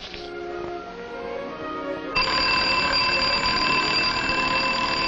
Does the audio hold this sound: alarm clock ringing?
yes